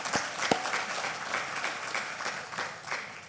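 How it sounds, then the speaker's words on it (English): Workshop attendees give a round of applause, a steady patter of many hands heard from a distance and fairly faint, with a few sharper individual claps standing out. "We just give them a round of applause"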